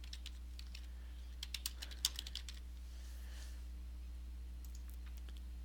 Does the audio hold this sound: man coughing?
no